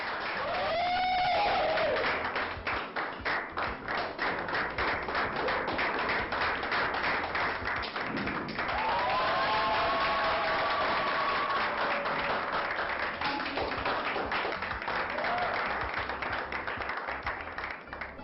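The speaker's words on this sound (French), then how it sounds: "S'il vous plaît, encore plus d'applaudissements pour notre gagnante." A crowd applauds a competition winner at a pageant-style crowning, sustained dense clapping filling the whole stretch, loud and close, with occasional whoops or cries rising above it.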